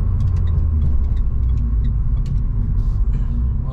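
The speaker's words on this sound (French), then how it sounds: "J'espère que vous allez entendre un petit peu le son du moteur dans la vidéo" Renault Clio 4 RS engine while driving in automatic mode, a steady low rumble of the car's motor with road noise, continuous and fairly loud throughout.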